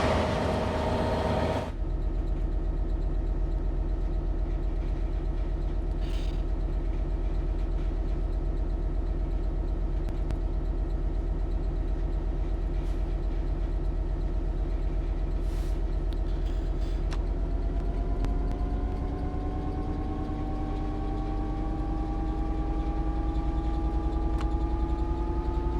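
A DB Class 66 diesel locomotive hauling a freight train from Southampton docks grinds into motion: a constant deep engine drone and rumble runs throughout, rising in pitch as it accelerates near the end.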